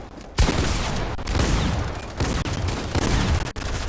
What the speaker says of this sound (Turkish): Burada çatışma çıktı.